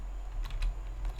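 Keys on a computer keyboard clack in a short, quiet burst of irregular taps over a low background hum.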